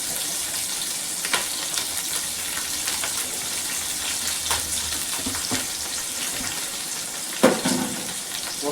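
Sliced onions and green chillies sizzle steadily in a pan, a close, even crackle broken by occasional scraping and stirring knocks.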